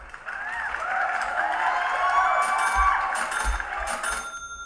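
Canned applause sound effect from a livestream soundboard, a steady burst of crowd clapping and cheering mixed with bright ringing, cash-register-like tones, lasting several seconds at even loudness with no talk over it.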